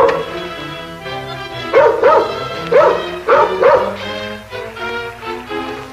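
A dog aboard a ship barks repeatedly in short, yappy bursts, fairly close, with whimpering sounds between barks and some background noise.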